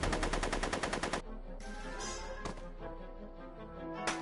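A rapid burst of automatic gunfire in Back to the Future: The Game, about a second of fast, evenly spaced shots, then it stops, leaving quieter game sounds and a couple of isolated hits.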